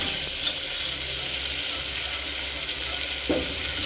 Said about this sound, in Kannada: ಟೊಮೆಟೊ, ಕಾಲು, ಈರುಳ್ಳಿ ಎಲ್ಲ ಚೆನ್ನಾಗಿ ಫ್ರೈ ಆದಮೇಲೆ ಅದು ಟೊಮೆಟೊ ಸಾಫ್ಟ್ ಆಗಬೇಕು, ಅಲ್ಲಿ ತನಕ ಫ್ರೈ ಮಾಡ್ಕೊಳ್ಳೋಣ.